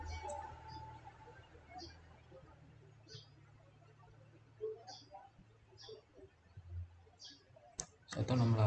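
Sparse, light key clicks from a computer keyboard while an IP address is typed into a network simulation program, spaced irregularly and fairly faint, ending in a couple of louder thumps.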